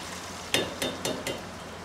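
Onions dropped into hot oil for a gurda kapoora keema kaleji dish, giving four short sizzling bursts spaced about a quarter second apart over a steady low background, close and moderately loud.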